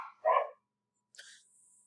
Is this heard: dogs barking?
yes